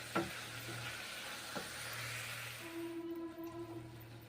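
Greens, shushni shak, sizzle and fry in a pan as a little water is added, a steady hissing crackle with a few sharp spits near the start, close and fairly quiet.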